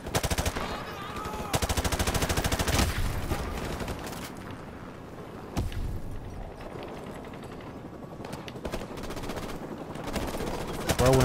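Rapid automatic gunfire in a Call of Duty Modern Warfare Remastered campaign mission, loud bursts of rattling shots in repeated volleys with brief lulls and a sharp single crack midway.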